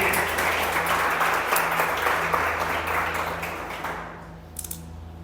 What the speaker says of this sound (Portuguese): Dê um forte aplauso a Jesus por isso.